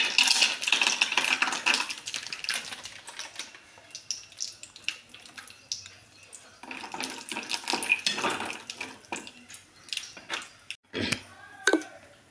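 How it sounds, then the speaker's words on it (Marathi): Cashews roast in ghee in a heated kadhai, giving a crackling sizzle with scattered sharp clicks and scraping, loud at first and then softer and patchier. "ह्याच्यामध्ये थोडंसं काजू भाजून घेते"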